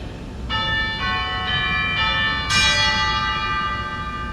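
Pipe organ chime tones strike one after another about every half second, each ringing and overlapping into a bright, sustained bell-like chord over a low room hum.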